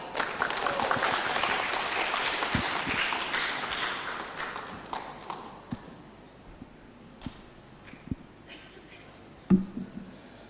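Audience at a student management conference clapping, loud at first then thinning out into scattered claps and taps as it fades, with faint voices toward the end.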